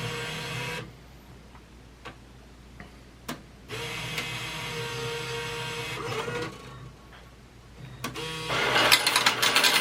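An American Changer AC1000 bill changer takes in a $20 bill, with a few sharp clicks, a steady motorized whir, then a louder mechanical rattle as it finishes.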